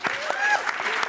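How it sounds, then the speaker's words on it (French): A crowd applauds briefly at a Cannes 2024 press conference. The clapping is dense and close, and a voice talks over it. "nous allons également demander d'applaudir des gens très importants qui sont juste là"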